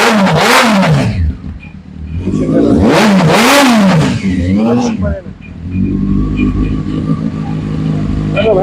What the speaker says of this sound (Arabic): في علبه شكمان تعديل. صوت الموتور، تعالى قرب هنا كده.